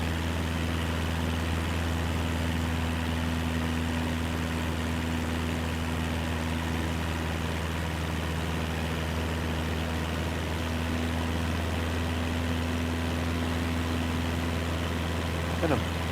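A simulated aircraft engine in Microsoft Flight Simulator 2024 drones at a steady, unchanging pitch, a constant low hum and buzz with no variation across the whole stretch.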